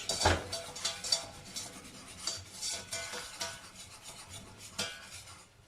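Whisk or spoon scraping and rasping against a pan as 20 grams of flour is stirred into melted butter, with soft irregular strokes, quiet and close, no voices.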